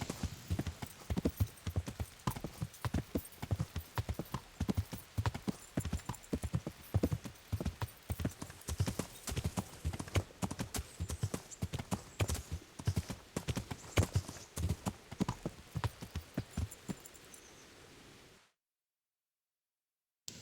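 Rapid, rhythmic horse hoofbeats in the video game Kingdom Come: Deliverance clip-clop steadily and close for most of the stretch, then cut off abruptly into silence.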